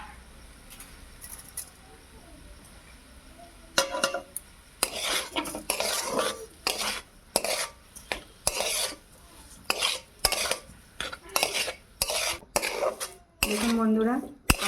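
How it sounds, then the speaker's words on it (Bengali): A spoon stirs a vegetable mixture in a bowl, giving repeated close scraping and clinking strokes in irregular bursts with short gaps, after a quiet start. "দিয়ে এটাকে আমি আবারও মাখিয়ে নেবো ভালো করে।"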